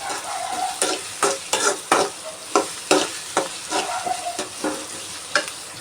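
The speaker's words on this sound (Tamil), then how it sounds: "இப்போ ஆனியன் வத வதங்கிட்டுருக்கு" Onions sizzle and crackle in a hot oil pan for brinjal curry while a utensil stirs and scrapes in irregular strokes, close and steady, with no talking.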